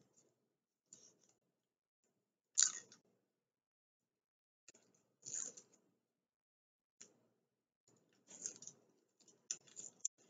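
A Dalstrong Shogun Series X gyuto chef knife slicing an onion on a board, a handful of soft, irregular crisp cuts with quiet gaps between them, close and faint.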